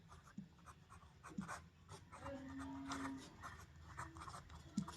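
A pen scratches across paper in short, quiet strokes with small pauses between them, close and soft, while a maths equation is worked out.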